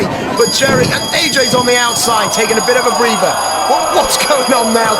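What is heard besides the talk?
fire alarm ringing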